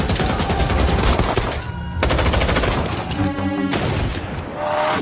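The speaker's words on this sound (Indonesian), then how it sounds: "mereka mendapat perlawanan yang cukup sengit hingga terjadi aksi baku tembak di tempat itu juga" Dense bursts of automatic gunfire in a film shootout, loud and close, with rapid volleys rattling almost continuously and brief pauses between them.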